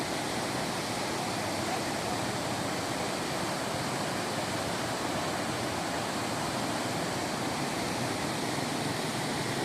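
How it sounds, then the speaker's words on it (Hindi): The Poonch river rushes past in Kotli, Azad Kashmir, a loud, dense, unbroken roar of flowing water heard up close with no break and no talk. "ये दरिया पुंछ का नज़ारा"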